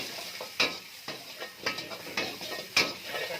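Julienned capsicum, cabbage, carrot and onion are stir-fried for chicken noodles, with a steady sizzle broken by several sharp spatula scrapes and knocks against the pan, close and fairly loud; no talking.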